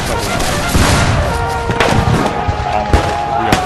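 A sudden volley of rifle or artillery gunfire in a Civil War battle scene, with several loud sharp bursts rising over a dense, continuous roar of combat noise.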